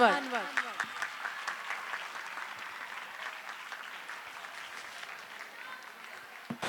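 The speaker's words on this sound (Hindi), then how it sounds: "आपकी भरपूर तालियों में सेंट माइकल सेकेंडरी स्कूल के प्रिंसिपल सर गजनफर अनवर" Applause from an audience at a school inauguration and blessing ceremony in Karachi, a steady wash of clapping sustained throughout under faint voices, with a louder burst near the end.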